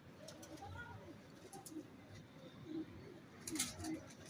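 Pigeons in a loft coo softly several times, the low rolling calls scattered across the clip, with faint voices and a few thin chirps in the background.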